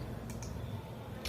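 A few sparse, faint keystrokes tap on a computer keyboard against a quiet background.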